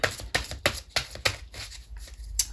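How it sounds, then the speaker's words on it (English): Close, brisk shuffling of a tarot deck, the cards slapping and riffling in a steady run of sharp bursts, loud and alone. "I'm going to keep shuffling and take one more"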